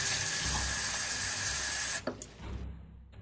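Water from a tap pours steadily into a mug in the video game All Hallow's Evil, a loud, even rush that stops abruptly and is followed by a few faint clinks and drips.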